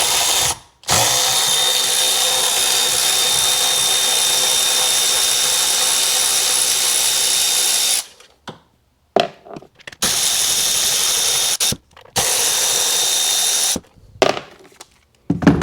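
Electric power tool, an impact driver or drill, removing bolts on a Seadoo 787 personal watercraft: long loud continuous whirring bursts close up, broken by short pauses and a few brief quieter gaps.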